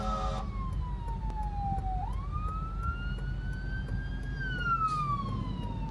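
Two Milburn Police, New Jersey, FPIU patrol vehicles race to an emergency at high speed, sirens wailing in long rising and falling sweeps after a brief rapid yelp at the start, loud and steady over road noise.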